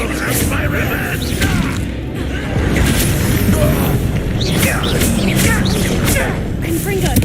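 Confringo fire spells blasting in Hogwarts Legacy, a run of booming explosions and crackling magical bursts over busy game effects, with someone shouting spell names throughout.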